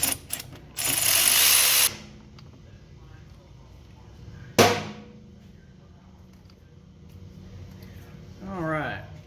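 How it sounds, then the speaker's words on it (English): A ratchet with a 10mm socket works loose a battery terminal on a John Deere riding mower, giving short bursts of mechanical clicking between louder knocks and handling noise, close to the microphone with no talk. "it's going to take a 10mm wrench and a socket, and we are going to use my favorite tool here to get this thing loose"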